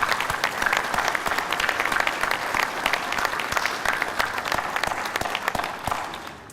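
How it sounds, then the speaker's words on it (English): An audience at the dedication of Building 325 at Fleet Readiness Center Southwest gives a long round of steady applause, crowded, crisp claps filling the space before tapering at the end. "let's take a few seconds to give those folks a round of applause who made it happen and got it done"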